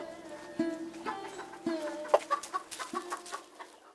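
Cartoon chickens cluck in a short series of sharp, close calls with uneven rhythm, clear and alone without talk.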